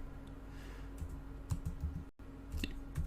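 Someone types a command on a computer keyboard, a quick run of close, crisp key clicks, a short pause, then a few more taps.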